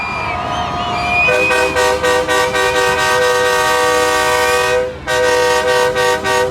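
Loud, blaring truck horns honk together in long, pulsing blasts at a Jamaican truck festival, cutting out briefly before starting up again.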